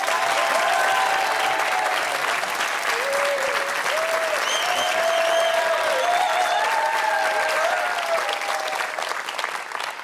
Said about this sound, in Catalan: Comenceu a aplaudir, sisplau.